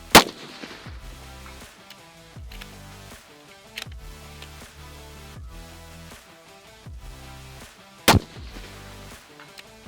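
Three sharp rifle shots from a Lithgow LA105 fired at a 300-meter target, loud and spaced several seconds apart, each with a ringing tail, over steady background music.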